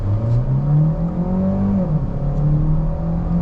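A 2024 Hyundai Sonata Hybrid accelerating hard, its engine note droning loud and close with a steady rising whir and a brief dip like a gear shift midway.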